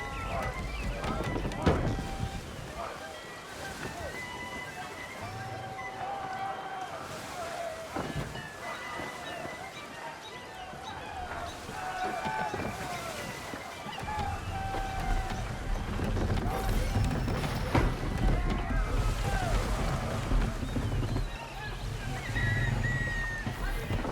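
Wind and open sea around a sailing ship in Assassin's Creed III, a steady wash of sloshing water and gusting air throughout, with voices and game sounds over it.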